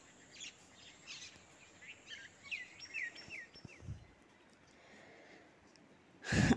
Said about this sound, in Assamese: মানে চৰাইৰ মাতবোৰ আৰু সেইটো কাৰণে আপোনালোককো শুনাই দিলোঁ